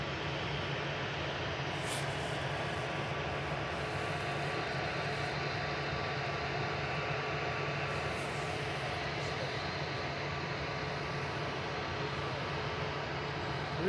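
A Jet2 airliner at Manchester Airport, its engines giving a steady, loud, broadband roar that holds for the whole stretch without talk.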